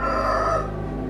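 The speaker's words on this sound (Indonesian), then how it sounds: "Jam 1 kurang ayam berkokok" A rooster crows loud and close in a single sustained call, the cry holding steady and then tapering off near the end, with no talk over it.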